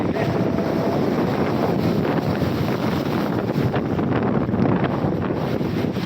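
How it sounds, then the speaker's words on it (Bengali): Big sea waves surging at Digha beach, a constant loud roar of surf mixed with heavy wind buffeting the microphone, no talk. "বিশাল বিশাল ঢেউ আসছে ফুটপাত কারবাল টপকে ঢেউগুলো উঠে আসছে"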